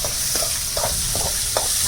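Onions, dal and red chilies fry together for kuzhi paniyaram, a loud continuous sizzling hiss close up, punctuated by four or five soft rhythmic stirring scrapes, with no one talking.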